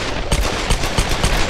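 Rapid bursts of gunfire from Lara's weapons in the Tomb Raider video game, a dense rattling run of shots with regular pulses, loud and close, with no talk over them.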